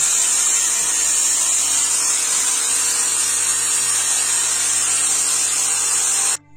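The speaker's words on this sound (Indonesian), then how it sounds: "Ini pengeboran untuk gas spontan ya." Continuous high-pitched whine of a power drill boring into a motorcycle part for a Honda Wave build, steady and loud for several seconds before cutting off abruptly at the end.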